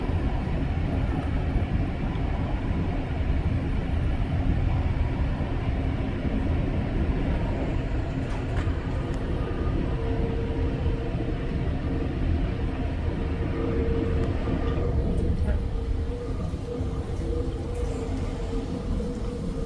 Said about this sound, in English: We got a little bit of sparking there on the pantograph on this train approaching.